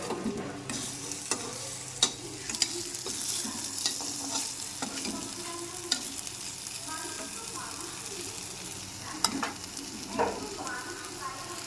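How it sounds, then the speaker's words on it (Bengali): Pointed gourd slices and fritters fry in a pan at home, giving a quiet steady sizzle broken by scraping stirs and sharp utensil clinks, with some talking in the background. "পটল ভাজা করছি আর একটা বড়া হয়ে গেছে আর একটা বড়া করছি"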